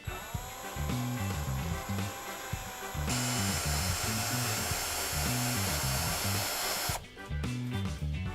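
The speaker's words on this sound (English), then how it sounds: "position your small colander on top of the spindle, and drive in 3 or 4 more screws to hold it in place." A power driver sends screws through a small metal colander into a wooden spindle, a close, loud whirring motor drone with a pulsing, stuttering pattern that runs nearly without a break and briefly changes pitch between bursts.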